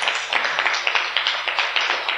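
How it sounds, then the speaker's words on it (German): An audience at an evening literary lecture and reading claps steadily for about two seconds, a crowd of overlapping handclaps at moderate volume with no voices on top. "Einmal Applaus"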